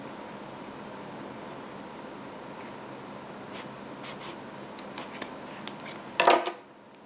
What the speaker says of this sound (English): I'm going to go ahead and just trim my loose yarn ends